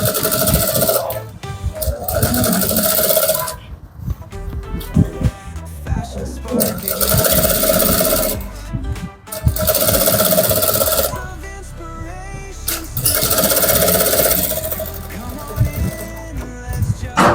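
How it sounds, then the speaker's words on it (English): Sewing machine stitching trouser fabric, bursts of fast rhythmic needle clatter that start and stop repeatedly, with short pauses between runs and occasional talk. "So carefully and gently sew."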